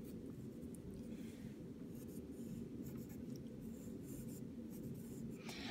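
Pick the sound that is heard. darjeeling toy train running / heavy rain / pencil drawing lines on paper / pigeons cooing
pencil drawing lines on paper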